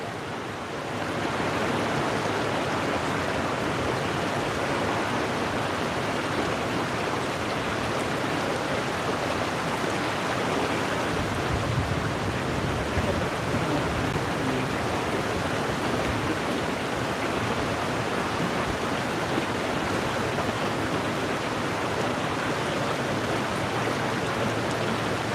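Resurrection River flows loudly nearby, a steady, broadband rush of water holding constant for the full twenty-five seconds with no other distinct sounds.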